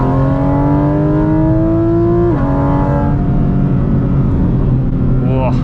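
Inside the cabin of a Porsche GT4 RS on the Kaunertaler Gletscherstraße mountain road, the engine accelerates loudly with a climbing tonal wail, drops sharply at a gear change, then pulls on under a steady roar.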